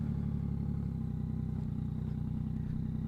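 A Yamaha MT-09 fitted with a Two Brothers exhaust rumbles along as it is ridden, a steady low, throbbing engine drone with faint wind noise throughout.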